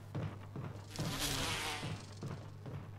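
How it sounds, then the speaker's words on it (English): Insect buzzing from bees in Resident Evil Remake HD, a steady low drone with a louder swell in the middle, heard alone at moderate volume. "Oh, I have to worry about the bees."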